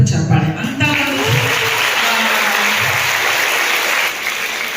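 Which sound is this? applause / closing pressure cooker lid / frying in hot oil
applause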